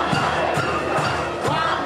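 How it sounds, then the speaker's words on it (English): A dense crowd cheers and roars in the streets of Old San Juan, Puerto Rico, celebrating the governor's resignation. The steady, loud wash of many voices has brief surges of shouting throughout. "Crowds on the streets of Old San Juan cheering as Puerto Rico's governor announces his resignation"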